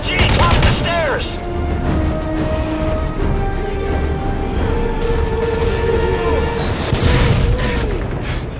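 Heavy gunfire in a Call of Duty: Modern Warfare 3 courtyard firefight, rapid loud bursts and booms throughout, with shouted voices mixed in.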